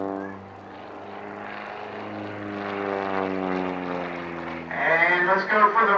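An aerobatic propeller airplane flies a maneuver at the Vinton County Air Show, its engine a steady, loud, droning hum that swells and roughens near the end as it pulls through.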